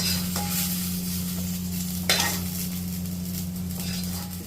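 Carrots and green chillies frying in oil in a pan for carrot chutney, a steady close sizzle with scraping stirs and a clink of a utensil against the pan, over a constant low hum, with no talking.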